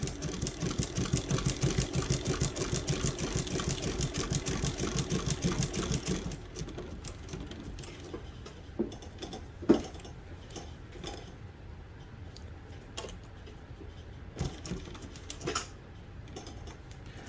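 A two-thread chain stitch embroidery machine runs fast and evenly for about six seconds with a dense, rapid clatter, then falls to scattered clicks and thumps as the fabric is repositioned.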